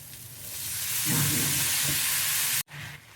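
Brinjal pieces drop into a hot pan with dried fish and sizzle loudly, a steady close frying hiss that swells as the pieces go in, with a brief cut near the end.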